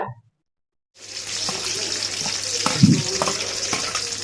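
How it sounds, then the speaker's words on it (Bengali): Chopped onion dropped into hot oil for a duck curry sets off a steady, close sizzle that starts abruptly after a short silence, with a few scraping stir strokes over the constant hiss. "তেলে দিয়ে দিব পেঁয়াজ কুচি দিয়ে একটু নেড়ে ছেড়ে দিব"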